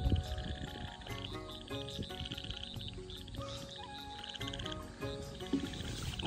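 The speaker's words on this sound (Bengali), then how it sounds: "গ্রামের ব্যাঙের ডাক" Many frogs croak in a dense, continuous chorus across a flooded village during the rainy season at night, overlapping calls repeating steadily at moderate loudness with no talking.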